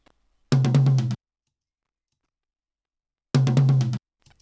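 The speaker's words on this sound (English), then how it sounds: "this is the sound of the tom on its own" An isolated tom drum from a drum mix, played alone: two loud, deep, short hits with resonant low body, a few seconds apart, then a faint trailing tap.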